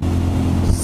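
A car follows very close behind a motorcycle on the road, giving a loud, steady roar of engine and wind that fills the short moment.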